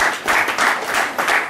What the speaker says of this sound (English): so much of clapping